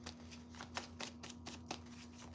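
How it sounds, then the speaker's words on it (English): Tarot cards being shuffled during a reading, a run of quick papery riffles and soft slaps in a steady rhythm, close and fairly quiet over a low constant hum, with no voices. "I'm going to go ahead and shuffle it again."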